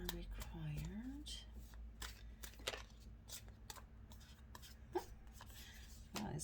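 Tarot cards shuffled and handled close by in a series of brief riffles and soft flicks, with a voice speaking intermittently over them.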